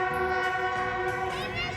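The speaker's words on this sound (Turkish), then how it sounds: "Bak bak bak bak gerçek tren de geçiyor." A real train passes by a city park, its horn-like tonal sound sustained and fairly loud throughout, with rail rumble beneath and no talk over it.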